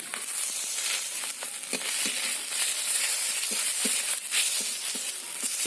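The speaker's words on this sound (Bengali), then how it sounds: "পেঁয়াজটা কিন্তু ভাজা ভাজা হয়ে গেছে এতে দিয়ে দিতে হবে বেটে রাখা রসুন" Ground garlic added to fried onion in a hot pan sizzles steadily, with scattered crackles and popping bursts from the oil over a continuous hiss.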